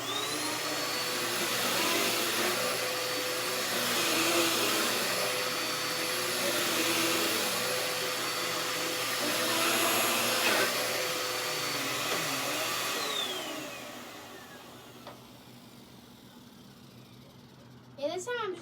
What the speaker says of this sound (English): I'm gonna go ahead and I'm gonna start vacuuming